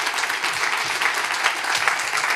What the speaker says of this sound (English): Big round of applause for Henning